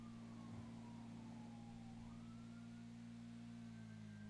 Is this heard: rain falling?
no